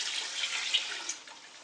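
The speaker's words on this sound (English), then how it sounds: "So we're going to pour our water in," Water poured into a pot of uncooked rice for cooking, a steady close hissing splash that runs without break and tapers slightly at the end.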